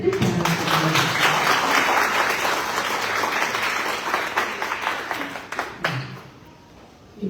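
Audience applause for Dr. Thirumavalavan at a speech event in Australia, a dense round of clapping from a crowd that fades away toward the end, with a few voices near the close.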